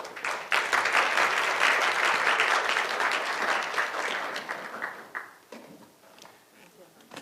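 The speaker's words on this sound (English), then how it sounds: "So please give them a big applause again." Seminar audience at a joint Chung-Hua Institution and Brookings Institution conference applauding presenters: dense, loud clapping that holds steady, then thins and fades toward the end with a few scattered claps.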